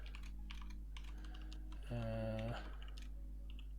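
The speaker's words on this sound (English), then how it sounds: "My typing's loud, lol." A computer keyboard clacks with a continuous run of quick keystrokes, close and fairly loud, over a steady low hum with faint talk and a brief tone in the middle.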